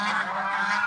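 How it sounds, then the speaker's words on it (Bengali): Geese on a family farm honking loudly and close at strangers, a single brief harsh nasal burst with no talking. "রাজহাঁসগুলো, তারা খুব বিরক্ত হয়েছে আমাদেরকে দেখে, এই জন্য তারা খুব চিৎকার চেঁচামেচি শুরু করেছে"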